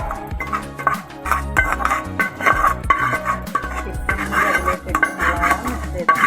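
Pidi rice dumplings being stirred into gravy in a metal pot, with steady close scraping and clattering of a spoon against the pot throughout.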